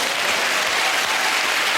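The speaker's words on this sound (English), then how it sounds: "I have -9, and they're applauding." Studio audience of a British comedy panel quiz show applauding, a dense, loud, continuous burst of clapping that holds evenly from start to finish with no voices on top.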